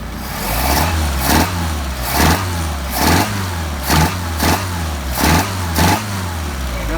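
Engine repeatedly revving with Solex carburetors being tuned, seven short throttle blips rising in an even rhythm over a steady idle, close and loud.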